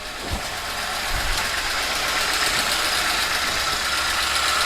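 A VAZ 2107 car engine idling at about 1000 rpm with lights and heater fan switched on, a steady close rumble with a brief lower bump near the start and a constant hiss over it.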